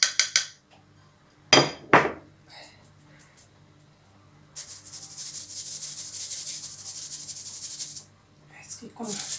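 A 100 g cup of sugar is mixed into beaten eggs for homemade crunchy Prince-style biscuits, making a gritty, scraping rub against the bowl that runs steadily for several seconds after a few louder knocks.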